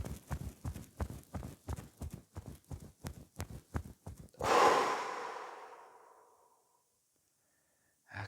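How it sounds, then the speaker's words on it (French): Sophrology breathing exercise: a long run of quick rhythmic pumping breaths, close and steady, ends in one long, airy exhale that fades into silence. "Inspiration, douce rétention d'air, et on pompe."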